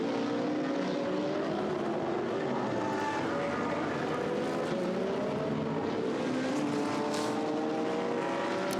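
Race cars at Blancpain Endurance Series free practice at the Nürburgring, including a Porsche and a Pro-Am class car, their engines droning steadily as they pass at a moderate distance, with faint shifts in pitch.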